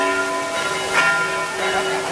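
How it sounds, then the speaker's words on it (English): Church bell ringing at a piazza in Rome, a sustained metallic tone with lingering overtones and a fresh strike near the middle, heard fairly close over quiet outdoor ambience. "the bell's ringing."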